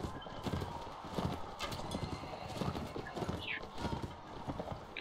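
Horse hooves clip-clop at a gallop in the medieval combat game Mount & Blade Warband, with a brief whinny, the rapid hoofbeats steady and close amid tournament battle noise.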